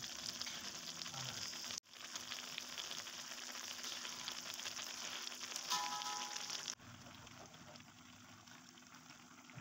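Cassava leaves simmering in coconut milk with dried shrimp are stirred in a pot, a steady close bubbling sizzle running throughout with a brief break near the start and a softer stretch toward the end.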